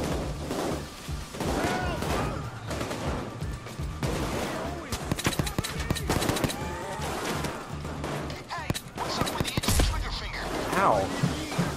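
Gunfire in a bank heist video game, bursts of rapid shots and crashes scattered across a busy, moderately quiet mix, with players talking throughout.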